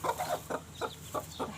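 Muscovy ducks at a hen house where eggs are hatching, giving a series of about five short, soft hissy bursts in a steady rhythm, close by, over a low background hum.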